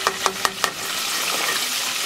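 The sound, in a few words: onion rings deep frying in oil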